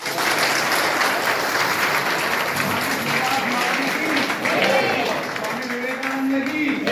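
Sustained audience applause at a devotional jayanti celebration in Maharashtra, broad clapping filling the whole stretch, with a voice and some tonal sound faintly audible beneath it.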